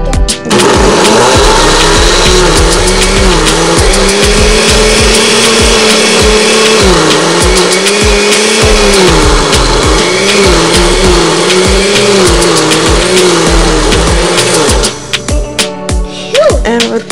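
A loud kitchen blender whirs steadily as it blends frozen mango for sorbet, its motor droning with a rising and falling pitch for most of the clip before cutting off near the end.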